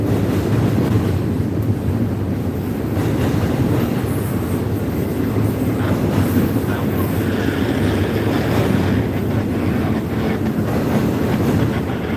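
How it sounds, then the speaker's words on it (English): An empty hopper car rolling north across Tanner rumbles continuously, a loud low grinding roar with rail noise and wind buffeting the microphone the whole time. "We're hearing is our empty hopper rolling across Tanner going north"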